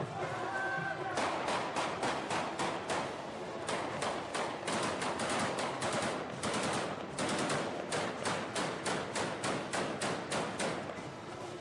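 Rapid bursts of celebratory gunfire at a wedding crack out repeatedly, loud and close, with shots coming in quick rhythmic volleys over a noisy background.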